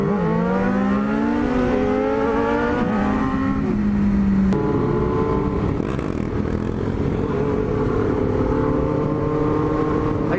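A buggy engine revs close by on a road among cars, its exhaust note climbing and dropping in quick bursts, then settling into a loud, rough, steady roar with no voices.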